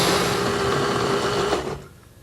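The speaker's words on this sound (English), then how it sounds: "blend the broccoli mixture on puree another 30 seconds" A KitchenAid Ultra Power blender purees a broccoli mixture with a dense, steady motor roar that cuts off abruptly near the end.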